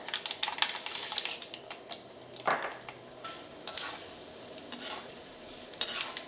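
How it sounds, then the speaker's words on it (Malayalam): Urad dal fries in hot oil with already-popped mustard seeds, giving a soft, even sizzle broken by a few clicks and scrapes of stirring; quiet and close, with no voices. "ഇപ്പൊ കടുക് പൊട്ടിയിട്ടുണ്ട്. ഇനി ഇതിലേക്ക് ഉഴുന്ന് ചേർക്കുക."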